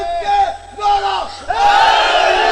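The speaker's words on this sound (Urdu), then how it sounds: "اچھا بول کے امام کی بارگاہ میں نعرہ جا رہا ہے" A large crowd chants a religious slogan in unison at a Shia majlis gathering, loud massed voices rising in repeated shouted phrases with brief dips between bursts.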